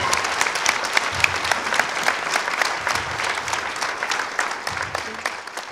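An audience at a secondary-school talent show applauds loudly and continuously, many hands clapping in a thick, bright wash with sharp individual claps scattered through it and no talk.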